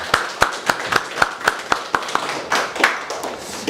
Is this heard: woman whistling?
no